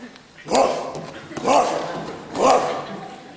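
Three loud, gruff woof-like growls come from a human voice imitating a dog's bark, one about every second, as a vocal exercise in a growl workshop.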